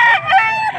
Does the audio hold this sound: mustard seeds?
no